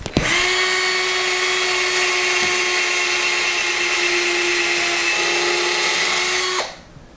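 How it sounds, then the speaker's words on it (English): A power drill runs steadily, boring pilot holes into wood for a platform bed frame, one loud continuous whine held for several seconds before winding down, with no talking. "putting pilot holes out of abundance of caution to make sure that we don't split the wood."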